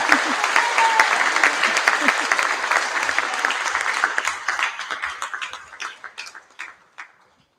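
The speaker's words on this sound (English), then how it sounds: "Please give that group a round of applause" Audience applause at a Te Kamo High School senior prize giving, a dense steady round of clapping that thins into scattered claps and fades out near the end.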